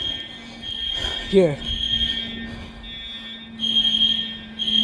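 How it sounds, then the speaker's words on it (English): School fire alarm at Chaparral High School, a Gentex unit sounding a shrill electronic tone in repeated bursts with a pulsing buzz, while people talk nearby. "Where's the fire alarm?"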